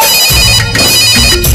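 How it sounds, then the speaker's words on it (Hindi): A mobile phone ringtone plays loud and close, a bright repeating electronic melody sounding alone without any talk. "मैंने फोन लगायो, कान्हा को कछु भेद ना पायो।"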